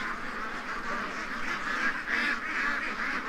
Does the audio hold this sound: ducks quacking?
yes